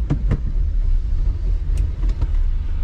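An old Mercedes car rumbles close by, its low engine steady and loud throughout, with a few short clicks and knocks over the running motor as it starts and pulls off.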